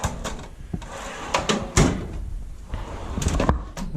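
A drawer of a US General metal tool chest slides open and shut with scraping rolls and sharp clunks, several close knocks and rattles in quick succession, with little talk.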